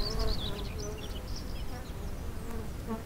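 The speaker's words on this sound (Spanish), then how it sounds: "se sabe cómo empieza el día por el sonido que hacen las abejas en su colmena" Honeybees buzz inside their hive as a dense, steady droning hum that fills the whole moment, with a few higher whining tones drifting over it.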